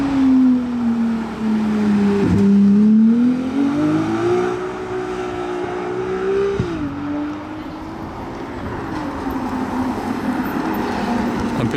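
McLaren Artura sports car driving, a loud, steady, dull rumbling engine hum whose pitch rises and falls smoothly, heard up close with no voices over it.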